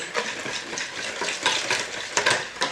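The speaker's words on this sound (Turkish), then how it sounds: "Ve irmiğimizle karıştırıyoruz." Semolina is stirred into a wet dessert batter for kaymakpare, giving a soft, close scraping and slushing that swells and fades in irregular strokes with no voices.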